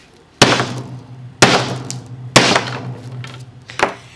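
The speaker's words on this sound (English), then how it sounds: "that's a pretty big ass hammer I'm hitting that with" Heavy blows from a big hammer strike epoxy-primed metal with sharp, loud clanks, four hits spaced about a second apart, each ringing briefly before the next.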